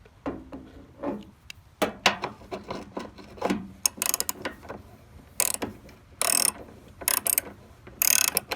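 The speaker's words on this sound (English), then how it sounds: "remove the battery crossbar by unscrewing the two 10mm bolts" A socket ratchet clicks in quick bursts while unscrewing the two 10mm bolts of a battery crossbar on a Trailblazer Envoy, with metallic rattles and handling noises between the runs of close pawl ticks.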